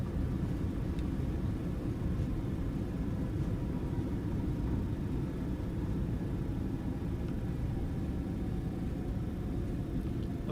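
An airliner's thrust reversers roaring during landing rollout in Microsoft Flight Simulator 2020, a steady heavy low rumble of engine noise held at even loudness throughout, with no talk.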